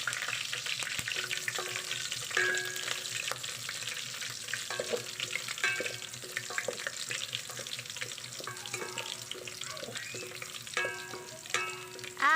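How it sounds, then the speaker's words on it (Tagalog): Garlic and onion sauté in a pan for a chicken-neck pancit guisado, with a steady loud sizzle and scraping stirs and clinks throughout, and no voices. "igisa na po natin ang bawang at bombay"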